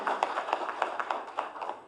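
An audience claps for Uttar Pradesh Chief Minister Yogi Adityanath at a vaccination and Golden Card distribution event, with a thin, uneven scattering of individual hand claps in quick succession.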